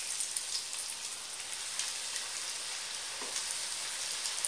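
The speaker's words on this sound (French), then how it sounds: "Alors je vais frire mon poulet." Steady, crackling sizzle of chicken deep-frying in hot oil, a dense bubbling hiss with scattered pops, close and continuous.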